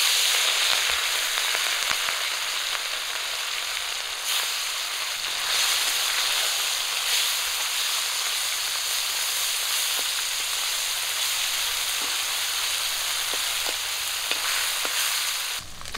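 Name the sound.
fish frying in hot oil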